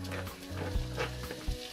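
Mangalitza ham frying in a pan at the start of a Greek-style spit roast, steady sizzle with spoon stirring and low knocks against the pan, close and without talk.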